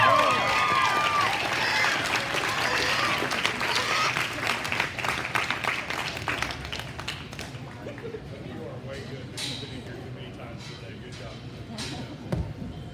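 Crowd at a livestock swine show breaks into loud applause that gradually thins into scattered claps, heard indoors in an arena, with a few sharp knocks near the end.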